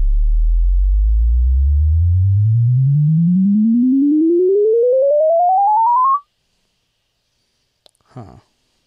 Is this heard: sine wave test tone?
yes